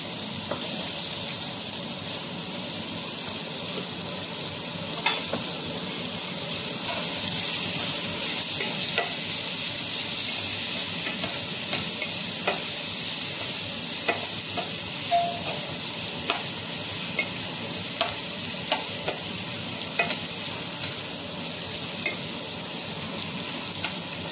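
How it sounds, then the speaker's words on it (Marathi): Finely chopped onion added to crackling cumin seeds in a hot pan gives a steady, close sizzle that runs unbroken for the whole stretch, with occasional light clicks from stirring and no voices. "आता याच्यामध्ये बारीक कांदा कापून घेतलेला आहे तो टाकते"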